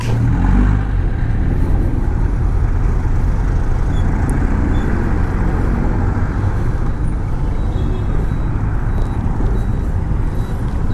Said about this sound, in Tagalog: Ito tayo mahihirapan kasi sobrang traffic.